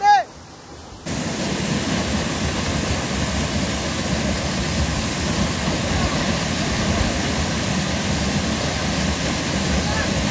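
Soochipara waterfall in Wayanad, Kerala, roaring as a steady broadband rush of falling water that starts abruptly after a brief moment and holds loud and constant throughout.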